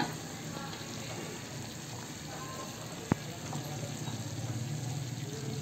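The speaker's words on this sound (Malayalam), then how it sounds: "തുടരെ ഇളക്കിക്കൊണ്ടേയിരിക്കണം ഇപ്പൊ തിള വന്നിട്ടുണ്ട്" Homemade banana jam bubbling in a pot while being stirred continuously, a steady low simmering hiss with soft bubbling throughout and a single sharp tap partway through.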